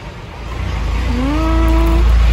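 A car engine rumbles loud and steady close by on arrival at a house, with a rising harmonic whine swelling over the last second.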